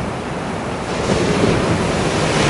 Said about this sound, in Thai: แล้วดูคลื่น สาดมาทีครับ